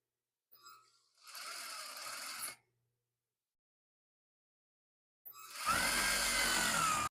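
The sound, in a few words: sewing machine stitching a sleeve seam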